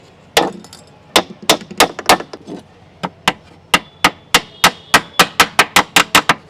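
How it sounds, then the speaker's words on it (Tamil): Nails hammered into a wooden stool that forms part of a homemade rocking horse: a long series of sharp, loud, close impacts, at first irregular, then settling into a fast, steady rhythm of blows. "இதே மாதிரி ஒரு 2-3 ஆணி வந்து இங்கே நடுவில் மட்டும் அடித்து விட்டுக்கோங்க"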